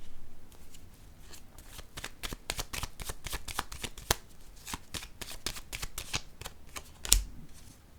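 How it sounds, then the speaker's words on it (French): Playing cards are shuffled and dealt onto a surface, a close, quiet run of crisp riffles and flicking snaps with one sharper slap near the end. "Je vais déposer une carte sur celle-ci."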